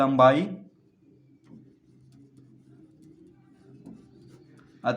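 Chalk or marker scratches steadily across a classroom board for several seconds, close and fairly faint, between short bursts of someone speaking at the start and end.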